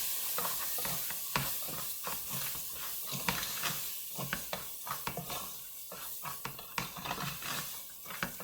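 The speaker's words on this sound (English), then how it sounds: "And I'm just going to keep stirring." Rice is stirred in a pan with onion and garlic, a close, steady scraping sizzle with quick irregular stirring strokes across the whole stretch and no talking.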